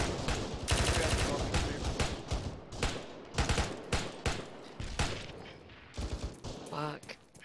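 Rapid bursts of gunfire from an ArmA 3 co-op military mission, dense overlapping shots near and far across the whole stretch, with a voice briefly heard among them.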